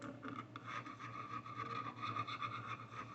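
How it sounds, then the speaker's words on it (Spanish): A tool scrapes factory resin off a car computer board from a Nissan March after acrylic thinner is applied, a close, continuous rasping rub with a steady buzzing hum underneath. "estoy raspando un poquito para que no tenga ningún tipo de problema con la resina que tiene puesta de fábrica"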